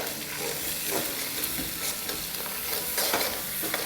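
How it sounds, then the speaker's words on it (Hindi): Crushed garlic and ginger paste sauté in a hot pan with a steady, soft sizzle and occasional stirring scrapes, faint and continuous with no talking. "1 टेबलस्पून कुटा हुआ लहसुन भर के, 1 टीस्पून अदरक का पेस्ट, इसको सॉटे करेंगे"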